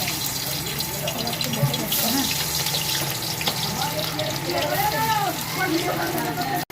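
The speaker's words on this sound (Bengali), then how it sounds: "এখানে কাবাব দিয়ে দিয়েছি, কাবাব ভাজা হচ্ছে, কড়াতে দিয়ে দিয়েছি ছোটো ছোটো করে কেটে" Small cut pieces of kebab frying in hot oil in a wok (kadai), a steady loud sizzle and crackle running throughout with a person talking over it.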